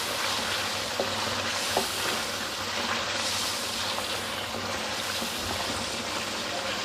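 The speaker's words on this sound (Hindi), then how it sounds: "थोड़ा सा हम इसे भून लेंगे।" Chicken karahi fries in a pan, a dense, steady sizzling hiss heard up close, with a few faint scrapes and clinks of stirring.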